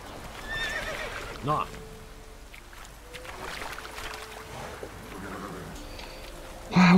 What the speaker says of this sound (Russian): Лошадь в воде застревает,